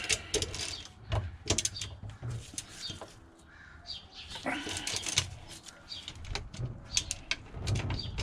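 Rapid ratchet clicks in uneven bursts while a nut is loosened on the ignition of a Porsche 914, close and crisp, with short pauses between strokes and faint birds in the background.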